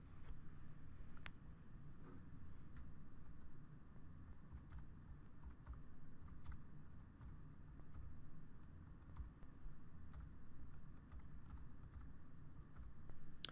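Quiet, steady typing on a computer keyboard as inventory counts are entered, with continuous soft key clicks and no talk.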